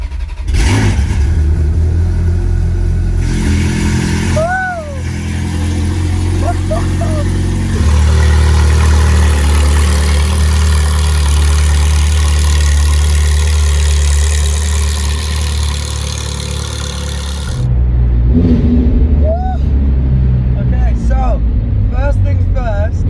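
A Ford GT cold-starts and settles into a loud, deep idle with occasional blips of revving, heard up close throughout before a brief drop and another burst of engine noise.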